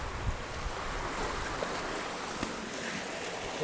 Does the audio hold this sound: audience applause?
no